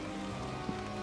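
Rain falls outside in the Lucius horror game, a steady, soft, even patter filling a brief moment with no talk.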